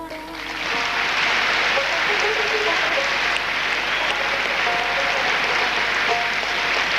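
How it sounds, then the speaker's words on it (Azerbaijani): Concert audience in a large hall applauding, a dense, loud wash of clapping that rises quickly and holds steady throughout, heard up close with no voices over it. "Alqışlarınız hamısı analarımızın şərəfinə olsun dostlar."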